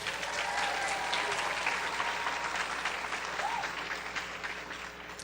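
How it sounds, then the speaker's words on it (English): An audience applauds at an event: steady, dense clapping from many hands that continues throughout and eases slightly near the end. "Let's give her a round of applause."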